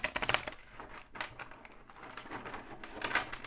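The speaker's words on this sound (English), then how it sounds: "So let's shuffle them again." Crisp, rapid papery flutters and clicks in quick bursts at the start and end, like cards being riffled close by, with quieter handling between.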